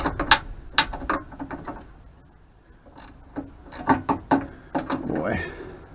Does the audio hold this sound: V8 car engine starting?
no